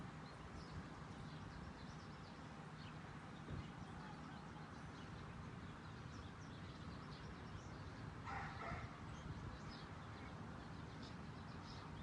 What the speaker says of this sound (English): We've got birds, a little bit of dog, but lots of bird song.